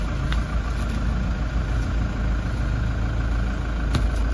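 A 2018 Toyota HiAce engine idles steadily after a timing belt change, a close, even low rumble with a faint mechanical whir and no talk.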